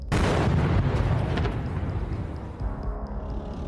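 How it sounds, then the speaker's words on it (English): An FPV drone strike detonates against an armored vehicle, a loud, close blast that bursts at once and then rolls off into a long, dense rumble with crackling debris that fades only gradually over a few seconds. "The drone approaches its target and another explosion occurs."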